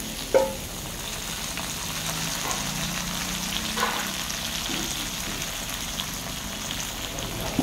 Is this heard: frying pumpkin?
yes